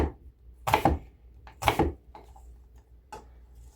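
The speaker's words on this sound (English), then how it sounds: "we're going to cut these up into little cubes" Knife chopping food into small cubes on a cutting board, a few sharp separate knocks in quick pairs, close and fairly quiet.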